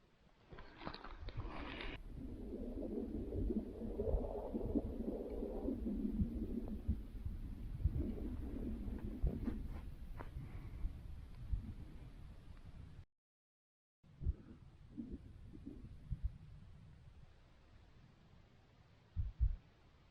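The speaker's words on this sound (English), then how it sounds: "I can hear my heartbeat." Soft, low rhythmic thumping of a heartbeat beneath a muffled rustling hush in the Khibiny Mountains, pausing briefly to silence before resuming faintly.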